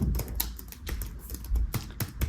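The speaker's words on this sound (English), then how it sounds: "the keyboard is very, very nice on this computer, but there's a nice travel to it" Rapid typing on an HP Chromebook 14c x360 laptop keyboard, close and crisp, a steady flurry of soft clicky keystrokes with no voices.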